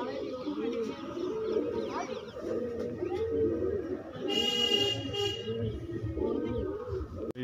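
Pigeons coo in low, rolling phrases close by while someone talks over them, and a brief higher chirping sound is heard near the middle.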